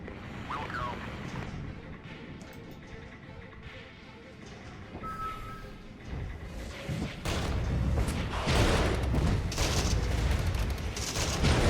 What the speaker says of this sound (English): Those are just mortars at close range